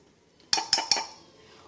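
A metal spoon scoops coffee powder for a half-teaspoon measure, making three quick, bright clinks against the container in close succession, then a short fading ring in a quiet room.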